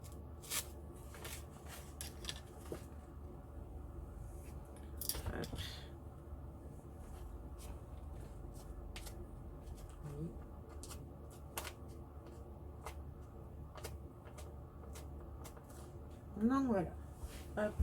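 Paper tearing slowly by hand for a vintage suitcase mixed-media craft project, soft intermittent ripping near the microphone with someone speaking over it throughout.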